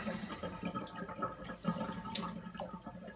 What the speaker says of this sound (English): rinse all the soap out and then put clean water in with no soap